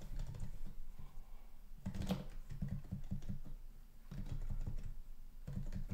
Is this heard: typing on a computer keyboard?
yes